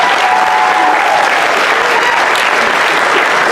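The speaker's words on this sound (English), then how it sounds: "let's give them a round of applause." Loud, dense applause from a large crowd cheering graduates at a graduation ceremony, continuous and even from start to finish with no pauses.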